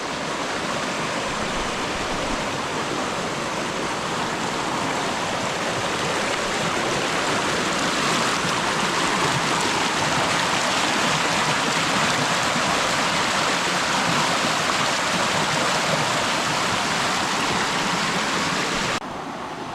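Rushing river water roars continuously after two days of flooding, a dense, steady wash of a strong current with no pauses or voices.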